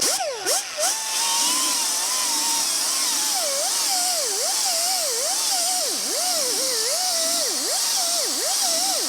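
Angle grinder disc grinding a 1959-60 Buick car chassis down to bare metal, a loud continuous high whine that wavers and dips as the disc is swept across the steel, preceded by a couple of brief knocks.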